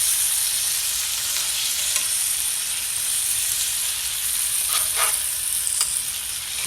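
Salmon fries in plenty of butter in a skillet, giving a steady, close sizzling hiss with a few brief crackling bursts, no voices.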